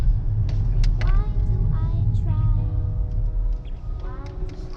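A Volvo V60 on the road in eco mode: a steady low engine and road rumble inside the cabin, with a voice talking over it.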